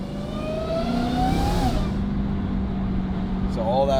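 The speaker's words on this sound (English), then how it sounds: "I'll show you guys what windows down sounds like as well. The valves closed." A Dodge Hellcat with a titanium exhaust, valves closed, heard from inside with the windows down: a rising engine note and whine that swells, then drops away abruptly, with talking over parts of it.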